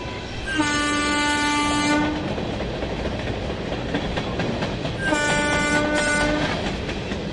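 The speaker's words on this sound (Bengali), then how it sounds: "ঠিক তখনই ট্রেন হুইসেল বাজিয়ে থামল একটি ছোট্ট স্টেশনে" A train in a Bengali village setting sounds its horn in two long, loud blasts separated by a few seconds, over a steady rolling rumble of the railway cars.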